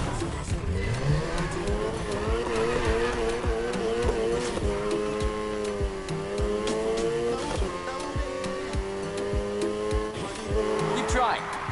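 In Need for Speed, a car drifts with a revving engine and long tire squeals through corners, loud and continuous, while a voice speaks over the game audio.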